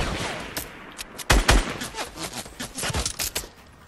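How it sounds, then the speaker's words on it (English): Rapid bursts of gunfire from a Fortnite Battle Royale gunfight, irregular volleys of shots crackling at moderate distance with a couple of louder, closer blasts near the middle, no talking over them. "Sounds like they're in an ass gunfight because nobody's killing each other"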